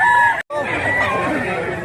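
A rooster crows loudly and close by in one long, continuous call with a brief break near the start.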